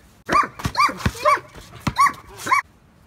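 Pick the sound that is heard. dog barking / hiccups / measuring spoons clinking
dog barking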